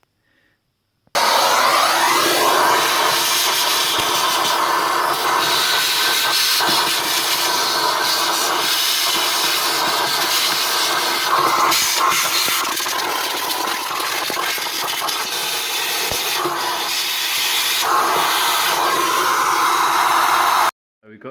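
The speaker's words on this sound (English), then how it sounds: "I'm going to get my hoover in there now and suck out all the crumbs" Household vacuum cleaner sucking crumbs out of a breadmaker, a loud, steady close roar running almost the whole time with brief shifts in pitch as the nozzle moves about.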